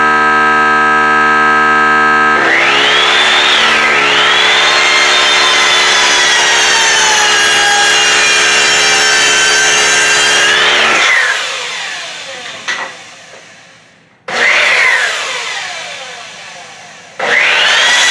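A saw cuts through wood with a loud, whining, sustained stroke lasting about eight seconds, then two shorter bursts follow after brief quiet gaps, with no talking over it.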